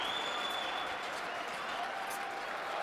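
The crowd at a table tennis Grand Finals match between Ovtcharov and Niwa applauds and cheers in a dense, steady roar of clapping that fills the whole stretch.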